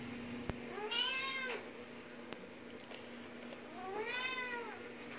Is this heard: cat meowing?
yes